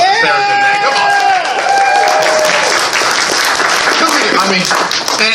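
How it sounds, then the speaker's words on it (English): A furry convention crowd at a match-game panel breaks into loud, sustained applause with cheering and whoops, dense clapping close and full throughout, with some voices shouting over it. "I want to hear a bigger round of applause for Sarathan, man."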